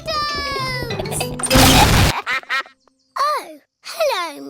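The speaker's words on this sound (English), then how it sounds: "Oh, hello, Mrs. Duck. What are you doing here?" A cartoon duck quacks in a rainy, flooded children's animated scene, with a loud crash or splash burst first, then a few short, close, nasal quacks separated by brief pauses.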